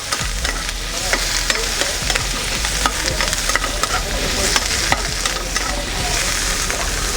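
Mushrooms and shallots are stirred in a hot pan, producing a loud, continuous sizzle with scraping and clattering from the stirring, close and steady for several seconds, with no voices.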